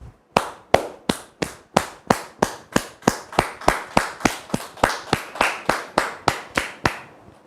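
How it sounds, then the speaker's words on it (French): Slow, regular single claps ring out one by one in a television studio, about three per second, crisp and evenly spaced with no crowd noise or talk around them. "acclamations et des applaudissements bien nourris."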